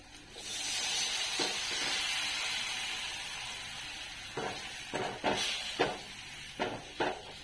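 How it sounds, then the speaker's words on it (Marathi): Cooked chakvat (bathua) greens tipped into a hot tempering in a pan give a steady broad sizzle that swells early and holds, with several sharp stirring and scraping knocks toward the end; no talking. "आता आपण हटलेली भाजी त्यात ओतून घेऊ"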